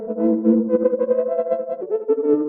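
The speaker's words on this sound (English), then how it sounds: "Now adding the Chromo Console." A cheap synth runs through a Hologram Chroma Console effects pedal, giving wavering, warbling sustained chords with fluttering modulation and uneven swells in level, close and without speech.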